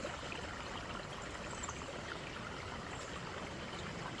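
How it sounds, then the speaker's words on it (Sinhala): A small stream trickles steadily along a hidden mountain road near Balangoda, a continuous, fairly faint rush of flowing water with no voices. "ඉතින් පොඩි වතුර පාරක් යන සද්දය ඇහෙනවා"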